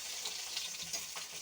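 Hilsa fish pieces shallow-frying in a pan, a steady broadband sizzle with soft crackles, close and moderately loud, with no talking.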